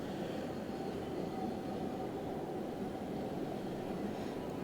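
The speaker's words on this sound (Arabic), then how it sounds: "هي ترام طالع قدامكم" A tram passes at the Sultanahmet stop in Istanbul, a steady low rumble and roar with a broad wash of street noise and no break or talking.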